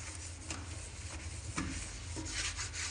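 Steady scrubbing of a kitchen sink coated in cleaning paste, a continuous close rubbing rasp with a few sharper strokes, no voices.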